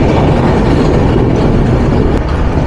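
Madhumati Express intercity train entering Kushtia district in Bangladesh, heard as a loud, steady rolling rumble and rattle on the rails from on board, continuous for under three seconds with no voices.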